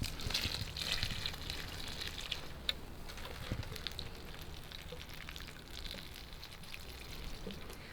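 Water splashes from a can or hose onto lettuce plants in a vegetable garden after earlier rain, a continuous close hissing patter with a few sharper drips, no voices.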